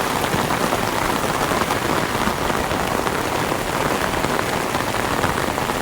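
Steady, heavy rainfall drenches flooded streets in Chittagong city, a thick, even roar of countless drops striking the ground and surfaces, constant and close for the whole stretch without any speech.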